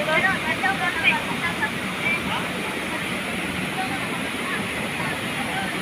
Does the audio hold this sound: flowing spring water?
yes